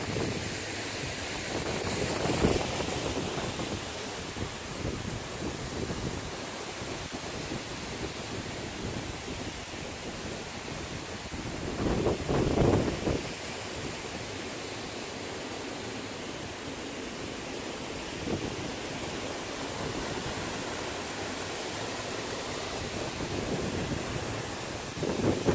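Strong wind along the Appalachian Trail near a power line view, a steady broad roar with a few louder gusts, sustained and unbroken with no talking.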